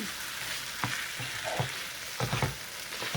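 Eggplant, tomato and boiled egg curry is stirred in a pan, with a soft steady sizzle and a few muffled spoon scrapes and knocks close by, no voices.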